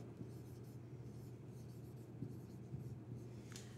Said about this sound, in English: So I'll go ahead and write that up for you.